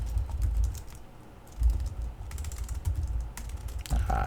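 Clattery typing on a computer keyboard during network configuration work, bursts of keystrokes at close range with brief pauses, no talking.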